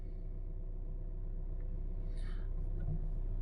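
A 2013 Kia Soul's 1.6 diesel engine idles steadily, a continuous low rumble and hum heard up close without interruption, with a faint brief higher noise midway.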